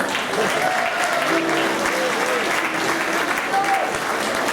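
Continuous applause from a shipboard audience at sea greeting the cruise director, a steady crowd of clapping hands heard throughout while a voice talks over it and tones sound intermittently.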